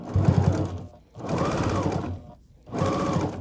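A sewing machine runs a stitch along the outer edge of a fabric placemat in three steady, close whirring bursts separated by brief pauses.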